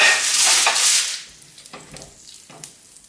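Chicken sizzles in a pan, a loud bright hiss for the first second that quickly fades to a quiet crackle with a couple of soft clinks, close by.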